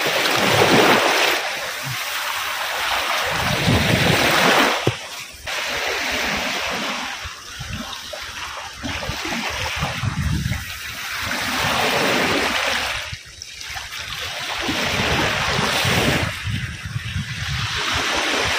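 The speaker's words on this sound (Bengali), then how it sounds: "তো দেখুন সাগরের যে ঢেউ, মন মাতানো ঢেউ," Sea waves roll onto Taruya beach in broad, rushing surges every few seconds, loud and close, with a constant wash of surf and wind between them.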